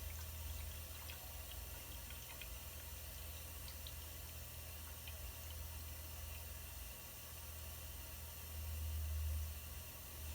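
Water filling an iSpring reverse osmosis unit during a filter change, a quiet continuous rushing flow with a low hum underneath, swelling slightly louder near the end.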